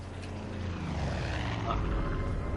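Helicopters fly overhead in the video game Far Cry 5, a continuous loud rotor and engine drone that swells slightly as they pass.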